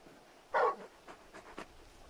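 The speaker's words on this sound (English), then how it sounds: "You're just a big puppy, aren't you? A very big puppy." Torgal, the large wolf-like dog companion in the video game Final Fantasy XVI, gives a short burst of breathy sound followed by a few fainter puffs, close and alone, with no talk.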